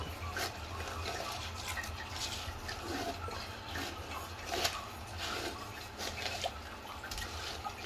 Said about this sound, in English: One more flush ought to do it.